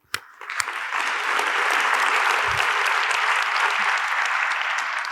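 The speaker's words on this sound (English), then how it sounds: "so I think you deserve some applause" Audience at a leadership conference bursting into applause after a few scattered early claps, swelling quickly into loud, sustained clapping from a large crowd.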